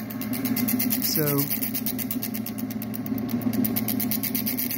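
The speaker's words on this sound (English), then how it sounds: "This motor setup has a bit of a resonant frequency, and it seems to be best at about around 450, 470 RPMs." A motor on an automatic preforming machine runs at about 450 to 470 RPM, giving a steady, rhythmic mechanical drone with a regular pulsing beat throughout while someone talks over it.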